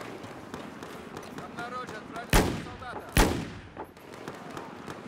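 Two sharp Desert Eagle pistol shots fired from the hip in Battlefield 4's Operation Locker map, close and loud, spaced about a second apart over a busy bed of game noise and background talk.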